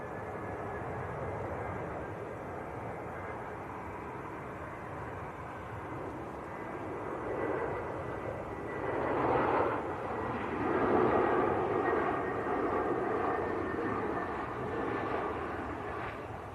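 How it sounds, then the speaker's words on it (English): An EasyJet Airbus A320, Austrian registered, touches down at Manchester Airport after a flight from Berlin, its engine roar heard from a distance and swelling toward the end, with no talk over it. "That was EasyJet from Berlin that's just touched down. It was an Austrian registered A320"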